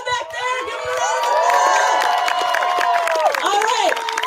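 A rally crowd cheering and clapping, loud and close, with whoops and shouting voices over a burst of applause that swells and holds for a few seconds.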